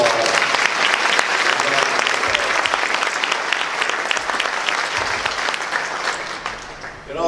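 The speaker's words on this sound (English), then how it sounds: "Can we give all the honorees another round of applause?" A gala audience gives the honorees another round of applause: dense, sustained clapping from a large room that holds steady for several seconds, then thins and fades near the end.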